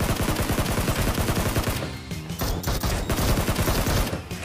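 Rapid automatic gunfire in a shooter video game, dense bursts of shots with a brief lull midway before firing resumes, loud and close.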